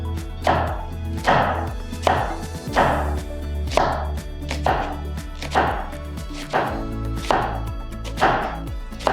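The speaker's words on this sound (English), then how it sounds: "now I'm gonna slice this into fine slices. First vertically, cut small." A kitchen knife slices vegetables into fine pieces on a cutting board, about a dozen crisp, evenly spaced chops knocking through one after another, near and clear.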